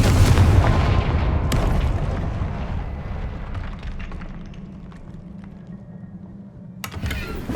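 A Confringo fire spell bursts in Hogwarts Legacy with a heavy, close boom that rumbles and fades over several seconds, followed by a sharper crack near the end.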